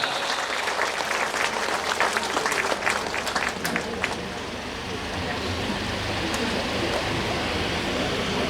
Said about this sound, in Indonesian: kepada narasumber kita beri tepuk yang meriah